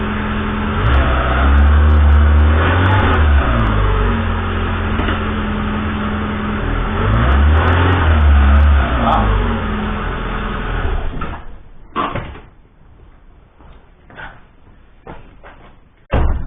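A car engine starts and is revved twice in loud, rising surges that fade back down, heard close up. Afterward the engine falls quiet and a few sharp knocks and clunks follow.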